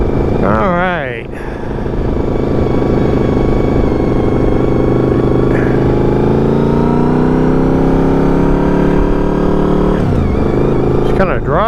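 A motorcycle engine drones steadily while riding, the pitch sweeping up through revs, dipping briefly near the start and rising again toward the end, loud and close with wind-like roar over it.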